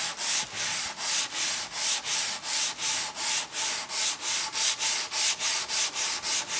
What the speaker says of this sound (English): I've just gotten a sanding block and a medium grit sandpaper so that I can make sure it's flat on the surface, and then just rubbing it along the surface like this